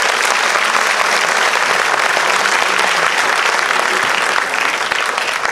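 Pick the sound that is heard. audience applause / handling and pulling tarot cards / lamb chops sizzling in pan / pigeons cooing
audience applause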